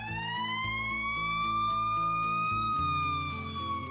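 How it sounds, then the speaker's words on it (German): A US ambulance siren wails loud and steady, its rising and falling tone sounding alone over a low horn-like drone. "So klingt der Krankenwagen in den USA."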